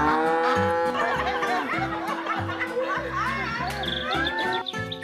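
A cartoon cow moos in a loud, drawn-out call over bright, busy music in a playful farm-animal scene, with light chatter and laughter mixed in.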